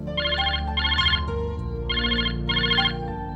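A telephone ringing, four electronic ring bursts in a regular pattern over background music, with no voices.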